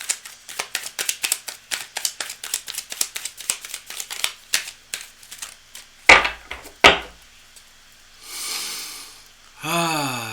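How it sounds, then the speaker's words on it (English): Tarot cards are shuffled up close in a quick run of crisp, rhythmic snaps and riffles, followed by a couple of louder taps and softer rustles near the end. "I'm just going to shuffle up the cards"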